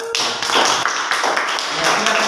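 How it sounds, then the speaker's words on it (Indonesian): Classmates applaud a student group after a presentation, a loud, uneven patter of hand claps in a classroom, fairly close and with no talk over it. "tepuk tangan untuk kelompok"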